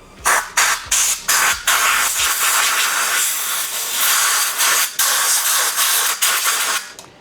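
Compressed air blasts from an air compressor hose in a workshop. A string of short, sharp hissing bursts gives way to longer sustained hisses, loud and close.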